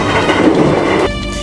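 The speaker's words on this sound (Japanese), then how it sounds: "ただいまこの電車は富士城駅を高速で通過しております" Loud, close rumbling roar from the deck of an E657 series Hitachi limited express train rushing through Fujishiro Station at speed, dense and continuous, easing slightly and turning more tonal near the end.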